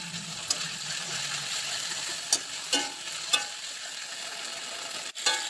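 Pre-fried potatoes tossed with spices in a pan for fish curry, a soft low sizzle under several sharp scraping stirs and knocks of a spoon against the pan, fairly quiet and without speech.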